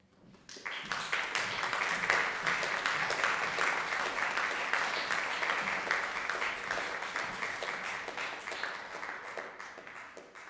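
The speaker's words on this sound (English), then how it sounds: "give a big hand of applause for the performers of tonight's iPhone Ensemble" An audience at a concert of the iPhone Ensemble applauds the performers, a full, even wash of clapping that swells in quickly and holds steady, slowly thinning near the end.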